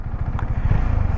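A Husqvarna Svartpilen 401 with a 373cc engine putters and thrums in a fast, steady low pulse while being ridden, loud and close, with light mechanical clatter on top.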